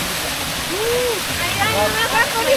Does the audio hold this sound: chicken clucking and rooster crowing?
no